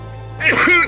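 A single short, rough throat-clearing cough bursts out close by after a moment of near silence.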